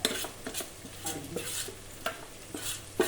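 Ground spice paste of turmeric, coriander, pepper, fennel and chilli powders stirred into softened onions for an Alappuzha-style shark fish curry: rhythmic spatula scrapes and clinks against the pan over a soft sizzle.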